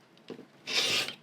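Paper foundation for a quilt block is trimmed in a short, close scrape lasting about half a second, after a couple of faint rustles. No one speaks.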